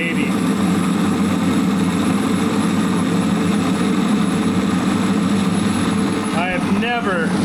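Clausing Colchester 13x36 metal lathe taking a deep 50-thousandths cut at 10 thousandths per rev, a steady loud low machining drone that runs unbroken throughout, with a brief voice near the end.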